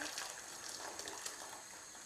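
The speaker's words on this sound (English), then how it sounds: "cover those with boiling water" Boiling water gushes and splashes steadily as it is poured over eggs in a pan, a soft continuous rush with no voices.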